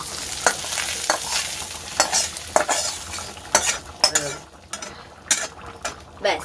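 Chopped garlic fries in oil in a pan while a spoon stirs it, giving a steady sizzle broken by sharp, close scraping clinks of metal against the pan.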